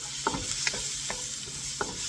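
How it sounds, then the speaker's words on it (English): Annatto powder is stirred into sautéed garlic and onion for Filipino kare-kare, with several distinct spoon knocks and scrapes against the pan over a constant gentle sizzle of oil. "I just put the powder directly in the sauteed garlic"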